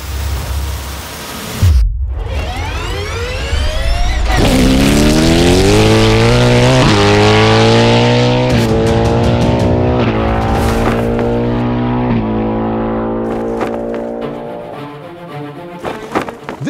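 Cadillac Le Mans race car drag racing a Ferrari 296, McLaren 750S and Porsche 911 Turbo S: a loud engine roars up through rapid gear shifts in a sustained pass, then fades away near the end.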